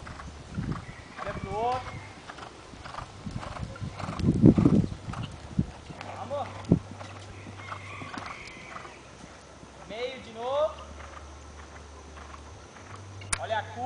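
Horse loping and galloping in a riding lesson, steady clip-clop hoofbeats with occasional whinnies, under an instructor's frequent spoken coaching in Portuguese.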